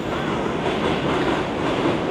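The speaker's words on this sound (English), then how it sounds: "Look at that train" A New York City train rumbles past up close, a steady loud roar of wheels and rail noise with faint clickety-clack, no voices over it.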